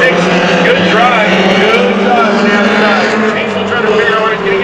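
Pony stock race cars roaring around a speedway track in a trophy dash, engines loud, close and continuous with pitch rising and falling as they pass, a commentator's voice running over the engine noise.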